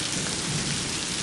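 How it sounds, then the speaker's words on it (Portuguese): Cold rain falls steadily in Guajará-Mirim, Rondônia, near the Bolivian border, a dense, even hiss of drops close by with no break and no voices. "Chuva geladinha."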